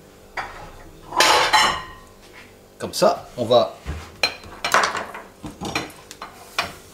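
Strawberries are tipped into a small salad bowl while making a strawberry-rhubarb crumble, with irregular close knocks, soft thuds and bowl clatter breaking up the quiet as someone speaks in between.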